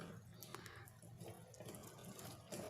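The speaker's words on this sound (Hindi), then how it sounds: "अब यहाँ पे थोड़ा सा पानी मैं ऐड करूँगी ताकि इसकी बुनाई अच्छी तरह से हो जाए।" Water poured into a pan of cooking masala for mooli sabzi makes a steady rushing, splashing pour that runs the whole time, with a slight surge near the end and no talk.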